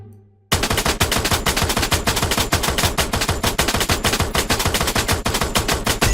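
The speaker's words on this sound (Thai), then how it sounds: "เรายิงตรงกลางหน้าอกตรงนี้นะครับผม" An M60 machine gun in Free Fire opens up after a brief quiet moment. It fires a loud, fast, continuous burst, with the rapid shots rattling evenly close by until the end.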